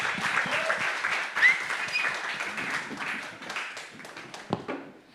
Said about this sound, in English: one more round of applause for the panelists